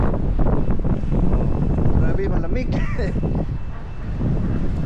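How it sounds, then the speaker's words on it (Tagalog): Strong wind buffets the microphone in a steady low rumble while a person speaks briefly over it. "Grabe naman ang hangin dito."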